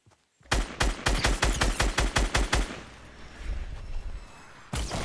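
Rapid automatic gunfire in a video game, a dense burst of about a dozen sharp shots followed by a fading tail and one more loud shot near the end.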